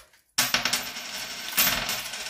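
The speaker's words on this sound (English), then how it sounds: "That's the noise. Take some foreign coins." A handful of foreign coins drops onto a surface with a bright metallic clatter, several jingling impacts in quick succession, close and clear.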